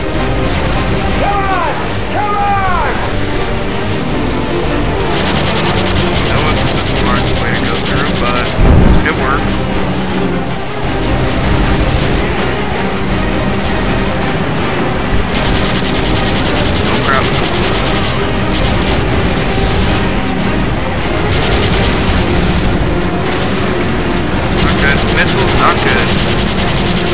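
Dense heavy gunfire and explosions in Modern Warfare 2, sustained rattling automatic fire with booming detonations and crashes layered throughout, loud and chaotic, with shouted voices over the battle.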